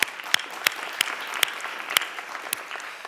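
Scattered clapping from a small audience at a Radcliffe Institute event: a handful of sharp, separate claps spaced irregularly over a quiet room rather than a full ovation.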